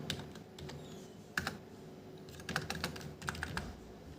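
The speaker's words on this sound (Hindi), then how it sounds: "गज टाइप कर दिया आपने" Keystrokes of someone typing Hindi on a computer keyboard with an Inscript layout, sparse individual clicks and small clustered bursts at a close, moderate level, with no one speaking.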